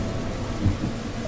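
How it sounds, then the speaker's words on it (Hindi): Rain falls as a steady, full hiss while a low thunder rumble swells briefly in the middle of the short stretch during a sudden change of weather. "अचानक मौसम बदल गया, बिजली कड़कने लगी"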